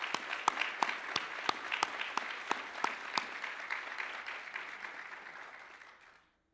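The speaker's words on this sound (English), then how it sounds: "Let's give everybody a big round of applause." Audience applause fills the hall at a school district's State of the District address, a lively burst of distinct claps that gradually thins and fades to silence after about six seconds.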